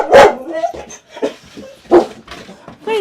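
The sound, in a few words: dogs barking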